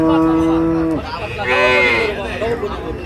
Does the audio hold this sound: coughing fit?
no